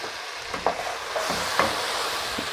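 Stirring a beans and cabbage stew just after tomatoes go in, with a steady low sizzle beneath a few soft scrapes and thuds of the spoon against the pot.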